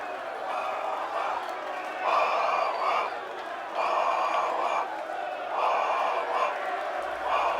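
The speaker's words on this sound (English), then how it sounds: "the crowd shouted in precise unison, louder than before" A large crowd chants in unison, rising in loud rhythmic bursts of roughly a second each, separated by short lulls in an arena setting.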